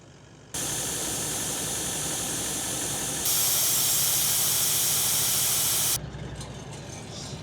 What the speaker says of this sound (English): pull over quick, air down my tires